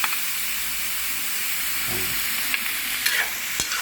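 Pork stir-fried in a pan for Thai sweet pork, a constant loud sizzle and hiss with occasional scraping and clinking from the stirring.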